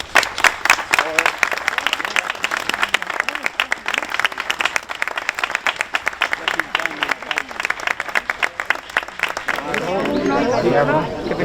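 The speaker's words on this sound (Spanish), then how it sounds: "Así que un aplauso al cielo" An audience applauds at a tribute ceremony in Ronda for a painter and teacher as a ceramic plaque is unveiled. Lively, rhythmic clapping runs throughout, with crowd chatter and voices rising near the end.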